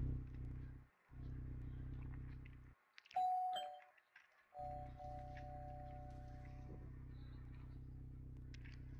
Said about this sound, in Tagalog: May doorbell.